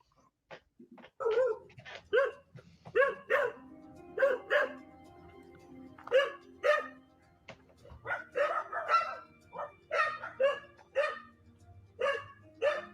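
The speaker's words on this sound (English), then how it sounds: "those dogs were going nuts" Several dogs barking outdoors near a house, sharp repeated barks in an irregular excited chain, moderately distant and continuing throughout.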